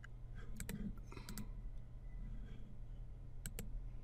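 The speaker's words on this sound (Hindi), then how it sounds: "now right click on this" Faint clicks of a computer mouse being used while working in a web browser's inspect tool, a few sharp ticks scattered over a steady low electrical hum.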